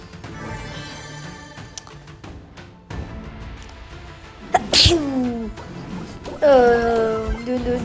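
A person sneezes sharply and loudly, with a bright burst partway through, set against background game sounds and voices while a video game is being played.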